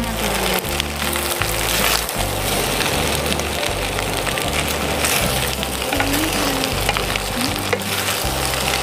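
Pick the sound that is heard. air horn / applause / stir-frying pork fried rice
stir-frying pork fried rice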